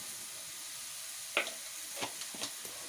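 Eggplant and bitter gourd frying in a pan over lowered heat, a soft steady sizzle with a few brief stirring scrapes and clinks, no voices.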